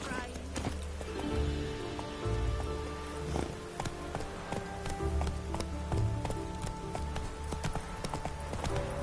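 Steady rain falls over the city of Novigrad in The Witcher 3, a constant hiss with a horse's hooves clopping close by and voices faintly under it.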